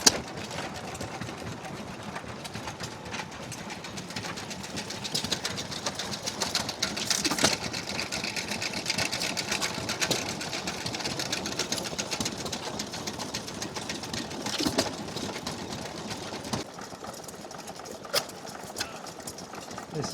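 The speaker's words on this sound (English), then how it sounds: "This is a nice little 2 horsepower Hornsby petrol engine." A 2 horsepower Hornsby petrol engine at a vintage engine rally, running on a buzz coil instead of its original magneto, chugs steadily and continuously at close range amid a noisy outdoor crowd and background chatter.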